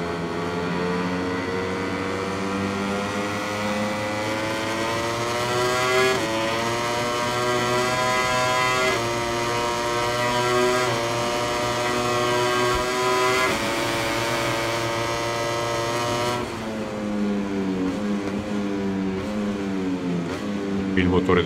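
In the MotoGP 21 racing game, a Ducati MotoGP bike on the Mugello circuit screams through rising and falling gear shifts. A commentator talks over the loud, continuous engine whine.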